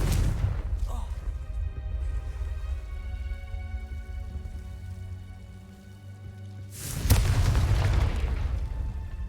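A Confringo blasting spell explodes in the Hogwarts Legacy video game, a loud broadband burst near the end following a low rumbling game soundscape with music.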